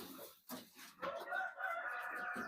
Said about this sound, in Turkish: Bunlar da iki aylık silver viyandotlarımız.